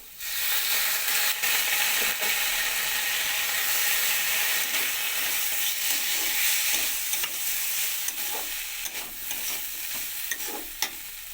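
Yardlong beans, pumpkin and potato fry in a pan with water sprinkled in, giving a loud, steady sizzle and steam hiss with occasional stirring scrapes throughout, and no voices.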